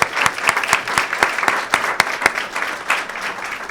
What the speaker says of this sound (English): So another round of applause for our speakers,